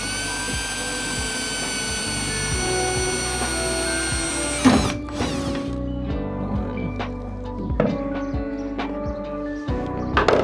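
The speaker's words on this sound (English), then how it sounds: "drill some pilot holes, unlike previously" A power drill whirs steadily for several seconds drilling pilot holes in a trailer, then stops, followed by a few short bursts and knocks of work noise nearby.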